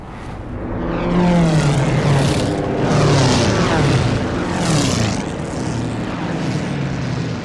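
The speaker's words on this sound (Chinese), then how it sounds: "这些不是轰炸机，而是彻头彻尾的战斗机" Several World War II-era propeller fighter aircraft, engines rated above 1200 horsepower, roar overhead in loud sweeping passes whose pitch swells and falls as each plane flies by.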